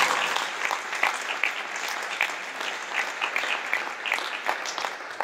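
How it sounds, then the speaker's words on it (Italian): Applause at a conference on climate change breaks out for the president of Italy's association of oenologists, a dense, steady round of many hands clapping, fairly loud and continuous with no talk over it. "salutiamo con un applauso il presidente di Asso Enologi, Riccardo Cottarella."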